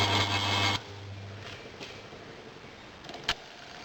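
A two-speed single-phase electric motor wired on its slow-speed windings hums briefly under power, then cuts off and coasts down, followed by faint clicks and a soft knock nearby.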